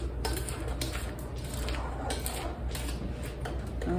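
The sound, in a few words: mixing vanilla cookie dough in a bowl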